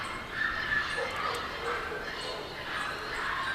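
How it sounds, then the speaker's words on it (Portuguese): Several dogs barking and yipping inside an apartment building, muffled and somewhat distant, in scattered overlapping bursts under a person talking. "a cachorrada latindo aqui no prédio"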